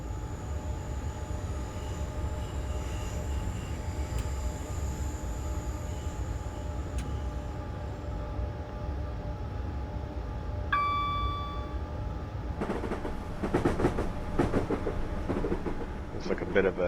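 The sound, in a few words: train running, from video game Train Simulator 2013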